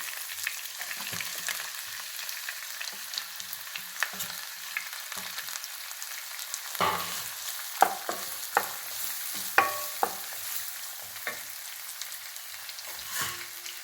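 Chopped onion and green chili sauté in hot oil in a pan for Tamil rajma masala, a soft steady sizzle broken by sharp scraping and clattering spatula strokes, growing more frequent toward the end.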